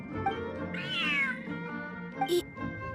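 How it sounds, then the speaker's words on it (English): A large cat in the video game Genshin Impact gives a drawn-out meow, clear and close, with a softer short mew near the end against quiet game background sound. "Whoa, this cat is way bigger than the others."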